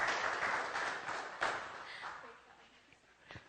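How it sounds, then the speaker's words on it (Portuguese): Applause from a crowd, fairly faint and fading out over a few seconds. "vamos aplaudir ele, pastor"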